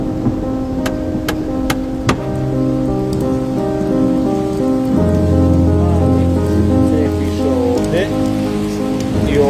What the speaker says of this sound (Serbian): Ajde, previše kiše, sklanjajte se, ej!